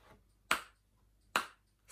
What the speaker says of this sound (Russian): я сейчас буду хлопать в ладошки, а ты внимательно слушай